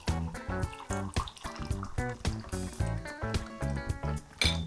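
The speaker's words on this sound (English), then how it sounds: "And now we're going to add some hot water." Hot water pours into a mug over spiced mix for a hot buttered rum cocktail, rising gurgling tones as the vessel fills, close and clear.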